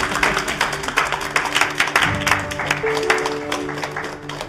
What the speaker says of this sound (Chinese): 给自己鼓鼓掌啊